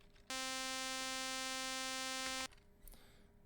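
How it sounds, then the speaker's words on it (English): A square wave synth tone pitched an octave higher sounds alone, a hollow, buzzy sustained note lasting roughly two seconds before stopping sharply, followed by faint clicks. "on this channel, I have a square wave that's an octave up."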